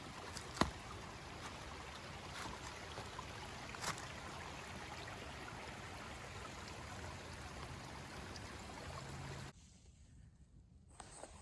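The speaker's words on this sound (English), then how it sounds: "Just a pretty little brook." A small brook flows steadily along a hiking trail in Pennsylvania near Pine Grove, a broadband water rush heard close and alone for most of the stretch, then dropping away near the end.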